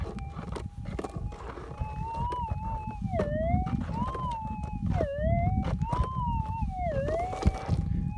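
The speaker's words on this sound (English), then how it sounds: "I've got a nice sounding signal here in underneath this old dead shrub." A Minelab GPX 6000 metal detector gives a warbling, wavering signal tone over a buried target beneath an old dead shrub while hunting gold at Tibooburra. The tone rises and dips repeatedly over a steady rough background hiss.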